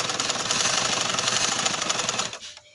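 A sewing machine stitches a leg seam on a shalwar, a fast rattling hum running steadily and close for about two seconds before winding down and stopping, with no talk.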